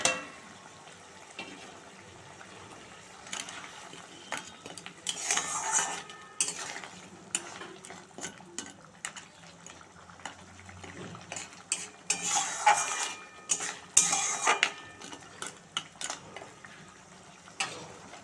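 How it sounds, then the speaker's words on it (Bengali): Fried crabs going into a pot of boiling curry, with clattering metal utensils, scraping stirs and a soft bubbling sizzle, moderately quiet and close, no talk. "ঝোলটা ফুটে গেছে, এবার আমি ভেজে রাখা কাঁকড়াগুলো দিয়ে দেবো।"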